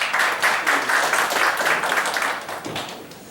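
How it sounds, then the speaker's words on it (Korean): An audience applauds at a gathering with performances, a dense crowd of clapping hands rising quickly and holding steady before tapering off slightly at the end. "네, 박수."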